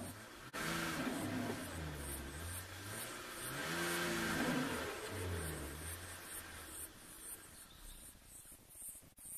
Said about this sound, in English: BMW E34 is stuck in very deep mud